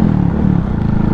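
A cold Honda Pop 110 motorcycle bored out to 170cc, running on ethanol, idles with a steady, rough low chugging that stays close and loud throughout, with no voices over it.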